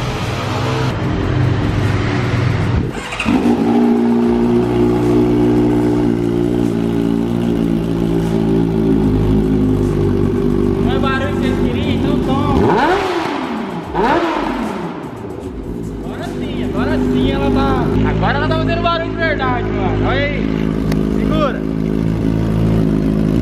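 Honda Hornet motorcycle with its exhaust cut down to a bare straight pipe, revving loud and raw up close, with throttle blips, a brief dip in the middle and people talking over it throughout.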